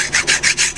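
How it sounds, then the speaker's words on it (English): A hand file rasping burrs off the metal flange of a hydraulic pump from a Ford 641 tractor, four quick close strokes in a steady back-and-forth rhythm. "take any burrs or raised metal off this flange"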